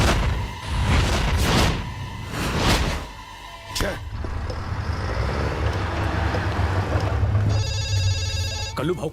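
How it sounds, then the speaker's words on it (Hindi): A few loud thumps and traffic rumble, then a phone ringtone chirps in a repeating electronic pattern near the end. "कल्लू भाऊ का फोन है, उसे काट डाला।"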